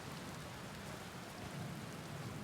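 Steady, faint rain hiss with a low rumble that suggests distant thunder fills a stormy video game scene, continuous with no voices.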